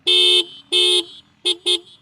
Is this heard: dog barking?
no